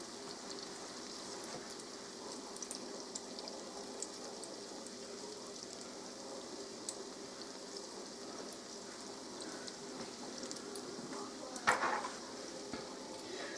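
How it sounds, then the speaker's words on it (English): Cake donuts frying in hot oil, a steady faint crackling sizzle that continues throughout with a brief louder bubbling burst near the end, no speech. "That's all I've got left to fry, and then it'll be done."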